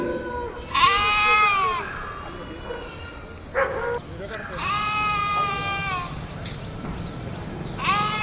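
Goats bleat repeatedly at a street protest, several loud wavering cries close by, while people shout and talk in the background.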